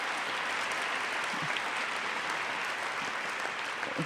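Steady audience applause at an academic event honoring Edward Said, a dense even patter of many hands clapping continuously for about four seconds without pause.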